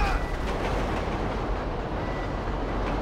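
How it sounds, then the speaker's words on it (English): In the Grand Theft Auto 5 video game, a train rumbles past loud and close, a dense steady roar of wheels and rail noise that holds for the whole stretch. "Let's hop the train!"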